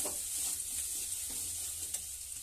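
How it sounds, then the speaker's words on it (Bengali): Grated ginger dropped into hot oil tempering for a vegetarian Bengali soybean curry, giving a soft steady sizzle with light stirring scrapes, quiet and close. "এবার আদা কুচনাগুলো দিয়ে দিচ্ছি"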